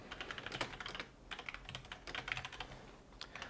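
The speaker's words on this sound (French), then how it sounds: "si on tape un peu de contenu" Fingers type on a computer keyboard in quick bursts of close, crisp key clicks, with one short pause, against a quiet background and no speech.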